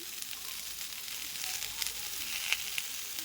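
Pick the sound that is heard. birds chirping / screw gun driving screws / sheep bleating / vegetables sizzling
vegetables sizzling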